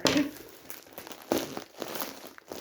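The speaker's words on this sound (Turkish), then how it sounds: "Hadi poşeti keseyim de yani" Crinkling plastic packaging of a FNAF plush toy being cut open, in short close bursts of rustling and crackling with brief pauses between.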